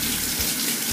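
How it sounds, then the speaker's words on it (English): Warm water poured into a green smoothie drink to dilute it, a steady splashing, trickling pour that runs continuously for under a second, close and fairly loud with no talking. "And then I just literally add a little bit of warm water"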